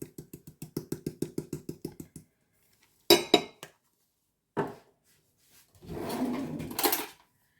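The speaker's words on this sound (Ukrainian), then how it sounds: "І вилочкою гарно перемішую." A fork clinks rapidly and rhythmically against a bowl while mixing a sweet cheese filling, followed by a few separate knocks and a short scraping rustle.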